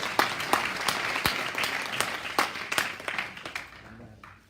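A church congregation applauds and cheers in acclamation, a steady burst of many hands clapping close by, dense at first and thinning out toward the end, with no talk over it.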